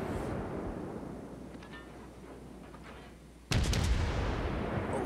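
Naval ship guns in a warship video game fire a full salvo: a quiet rumbling stretch with faint tones, then a sudden loud, booming blast that rings on to the end, with no talking.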